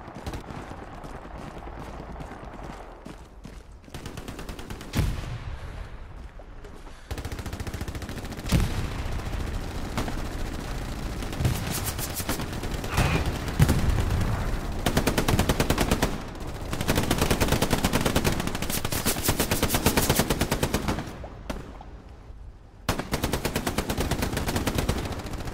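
Machine gun fire in a WWII shooter set in France goes on for about twenty-five seconds. It comes in long, fast, close bursts with short gaps between them, and other gunfire can be heard in the distance.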